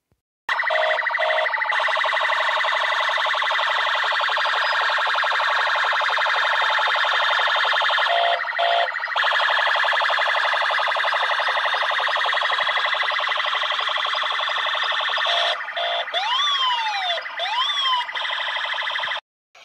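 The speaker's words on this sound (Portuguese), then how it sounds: "eu vou ligar a sirene aqui, é é bem alto" A loud electronic siren from a toy police car wails continuously for nearly twenty seconds, switching between steady tones and rapid rising-falling yelps, with a few brief breaks.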